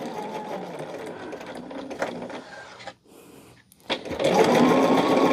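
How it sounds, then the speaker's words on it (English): A sewing machine stitching quarter-inch seams, rapid mechanical chattering in bursts with a short pause in the middle before resuming louder, close and clear with no talking. "we're sewing everything at 1/4 inch"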